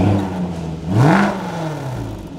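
Range Rover Sport engine gives a single rev, the pitch rising sharply then easing back to a steady idle, loud and close with no talk over it.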